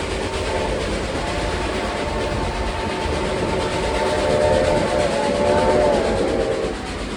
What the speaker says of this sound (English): Gotta love that Reading 5-chime whistle.